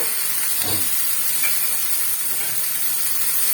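Hot oil with fried spice paste hisses in a steady, bright sizzle, and a soft clatter near the start marks potatoes and peas being dropped into the pan.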